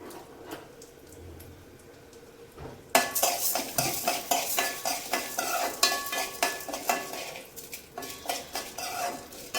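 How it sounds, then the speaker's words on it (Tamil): Toor dal lentils dry-roasting in a pan for a chutney: after a quiet start, a metal spoon scrapes and stirs in brisk, rhythmic strokes, the grains rattling and faintly crackling against the pan. "அவ்வளோ பருப்பு போட்டுக்கோங்க போட்டுட்டு நல்லா வறுக்கணும்"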